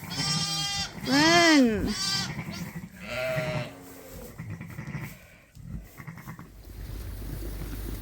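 Sheep bleating loudly and repeatedly inside a barn as they are moved between pens, the wavering cries close by, with a person calling out briefly and some shuffling in between.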